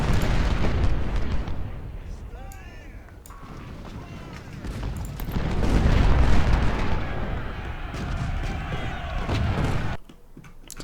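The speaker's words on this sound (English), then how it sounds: "There's cannon here, and it's getting effective canister fire down on us." Cannons fire canister shot in the Civil War strategy game Ultimate General: Civil War, heavy booms and rumbling blasts rolling over continuous battle noise, with brief bird-like chirps early on and a sudden drop near the end.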